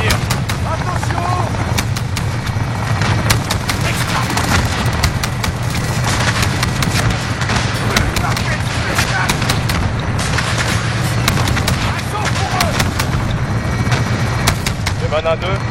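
Dense gunfire and explosions in the Call of Duty Modern Warfare video game, with rapid continuous shots and booms filling the whole stretch at a loud, constant level.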